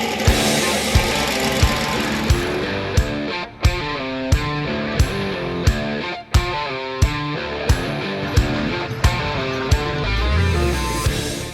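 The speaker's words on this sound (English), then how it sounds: "hop in my old truck and go for a ride down a country road and listen to that engine rumble" An old classic truck engine rumbles steadily while cruising down a country road, with a regular low knocking pulse repeating beneath a layer of music.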